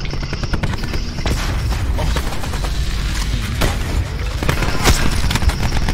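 Dense multiplayer gunfire and booms in Black Ops 4 roll on without a break for six seconds, loud and busy, with sharp shot transients layered over a low rumble.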